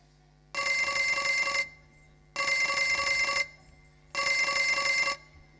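A telephone bell rings in three evenly spaced bursts, each about a second long with short silent gaps between, loud and clear with nothing else heard, part of a Bangla puppet comedy.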